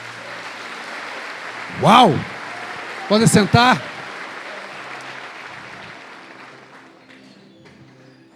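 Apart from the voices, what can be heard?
congregation applauding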